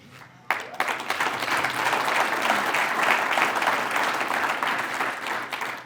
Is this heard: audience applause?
yes